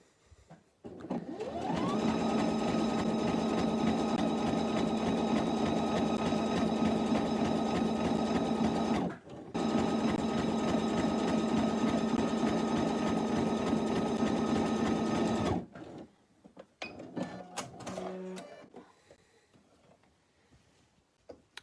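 A sewing machine stitches the hem of a pair of shorts, running steadily and loudly for about fifteen seconds with one brief pause, then falling silent except for some faint handling noises.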